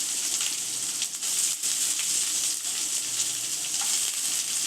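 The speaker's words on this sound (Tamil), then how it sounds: "அதை ஒரு வெங்காயம் மெலிசாக கட் பண்ணி வச்சுக்கிறேன், அதையும் சேர்த்துக்கலாம்." Thinly sliced onion fries in a pan for coconut rice with a steady, close, bright sizzle that hisses continuously, with only slight dips in loudness.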